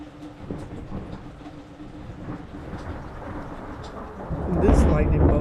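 Thunder from a lightning bolt striking less than two miles away during a storm, a low rolling rumble over steady rain that swells into a louder, closer crack and boom near the end.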